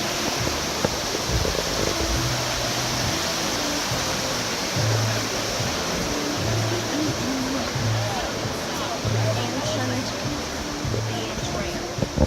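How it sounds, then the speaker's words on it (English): Whitewater rapids of the Dan stream in Dan Stream Park, Israel, rush in a steady, dense roar with no break, close and loud, while faint voices murmur underneath. "Dan Stream Park, and we're gonna do the whitewater rafting on these rapids."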